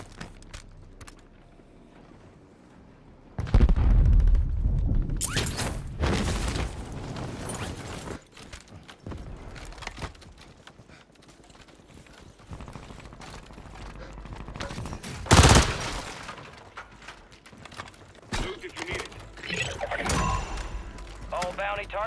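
Gunfire bursts from the video game Call of Duty, with scattered shots and a few louder volleys, one sharp burst standing out midway, while players talk over the action.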